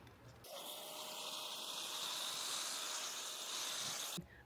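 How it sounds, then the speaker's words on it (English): A hand sprayer releases one continuous, close hiss lasting nearly four seconds, starting and stopping abruptly. "I've got the sprayer in one hand and camera in the other."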